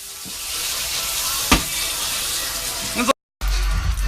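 Butter sizzles in a frying pan over low heat next to potatoes, making a constant crackling hiss with a clatter of stirring. The sound cuts out briefly near the end and then comes back.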